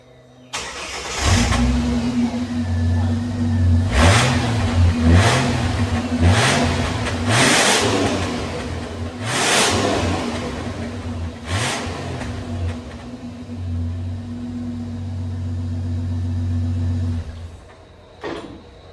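A Ford AU Falcon with a turbocharged Barra engine revs through its stock exhaust: a close, loud engine that climbs and falls in several sharp revs over a steady idle, with no talking.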